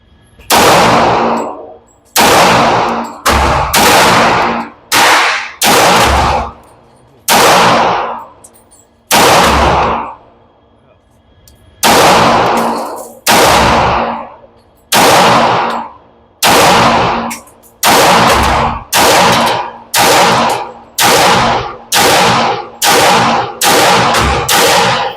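A 1911 pistol fired at an outdoor range, loud sharp reports fired in quick strings and double taps with short pauses, each shot ringing out and decaying, with no talk.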